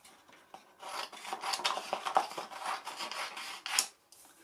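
A pencil traces an outline on viscose knit fabric, giving soft, scratchy rubbing strokes in quick irregular bursts, close and quiet, with no talking.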